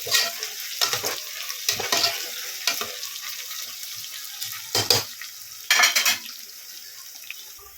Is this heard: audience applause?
no